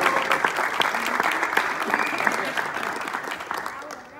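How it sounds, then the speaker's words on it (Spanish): Steady applause from a theatre audience at Teatro San Rafael greeting a play's director and writer, a dense wash of clapping throughout with some talk faintly mixed in before it fades at the end. "El aplauso fuerte para nuestro director y escritor Francisco Oñacure."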